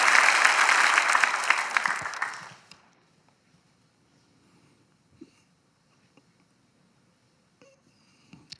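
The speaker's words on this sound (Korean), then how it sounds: "여러분 박수로 다 축하해 주시기 바랍니다" A church congregation at a Sunday service bursts into loud, full applause for about two seconds, then it fades quickly into near silence with only a few faint scattered knocks and rustles.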